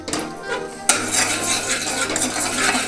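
Ingredients being fried in butter in a pan for tomato soup. There is busy stirring and scraping with clattering utensils and a faint sizzle underneath, close and continuous with no talk.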